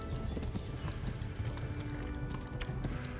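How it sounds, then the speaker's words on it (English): A horse gallops in the medieval video game Kingdom Come: Deliverance, its hoofbeats a quick, continuous clatter beneath a soft game soundscape. "Vai, cavalo, corre!"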